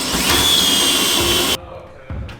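A power drill runs loud and steady for about a second and a half, then stops abruptly; a short quieter burst follows.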